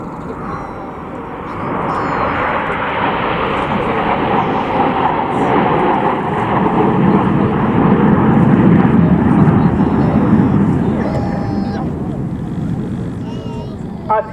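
Red Arrows jets fly a formation display at the RAF Cosford Airshow. Their broad, rumbling jet roar builds and lingers overhead, while a commentator talks over the noise.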